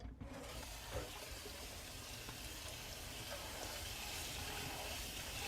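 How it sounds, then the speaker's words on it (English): Canned beans are drained and rinsed under a running tap: a steady, full rush of water pours and splashes without a break for several seconds, with no speech over it. "So just drain and rinse those beans a second."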